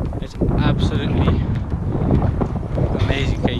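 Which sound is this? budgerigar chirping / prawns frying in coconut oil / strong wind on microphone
strong wind on microphone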